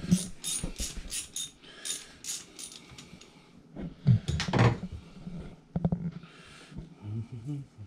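Mechanical clicks and ratcheting as an 8 mm tool works loose the oil filter on a Sea-Doo personal watercraft, short irregular bursts of metallic clatter close by, with no speech.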